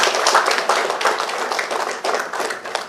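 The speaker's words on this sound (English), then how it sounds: "I request the entire gathering to give a big round of applause." A gathering at a college Teacher's Day celebration applauds a retired coordinator with loud, close, continuous clapping and no speech over it.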